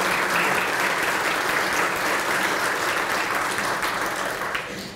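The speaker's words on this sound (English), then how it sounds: "So if we give them a round of applause," An audience at a volunteer recognition event applauds city employees with sustained, even clapping from many hands that fills the room steadily before gradually tapering off at the end.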